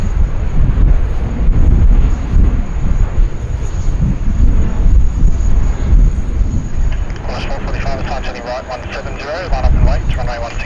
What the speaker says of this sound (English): an Atlas Air 747-400. Just touching down there on runway 16 right.